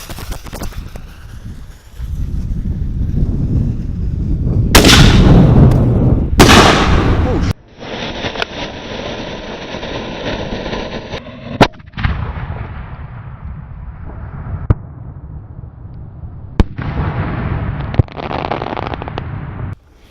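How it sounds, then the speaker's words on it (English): A 60-gram firework mortar going off outdoors: loud rumbling booms and crackling bursts, then a hissing shower and scattered sharp pops, with voices talking and reacting. "It's a 60-gram mortar."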